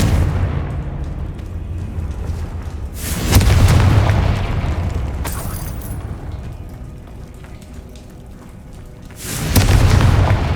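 Booming blasts from the Confringo fire spell in the video game Hogwarts Legacy erupt twice, deep and loud with a rumbling tail, over a steady low game background.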